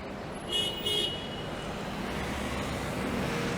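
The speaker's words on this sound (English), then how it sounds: "There's impatient people honking." Car horns honk briefly twice in Toronto street traffic, fairly near, over a steady roadway rumble with no talk.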